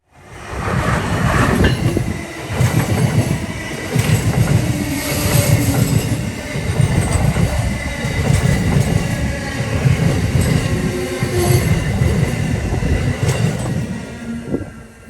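Amtrak Northeast Regional train passing Seabrook station, a loud, close, sustained rumble with rhythmic wheel clatter and occasional squeals as the cars roll steadily by.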